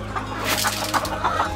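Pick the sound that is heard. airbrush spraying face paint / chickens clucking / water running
chickens clucking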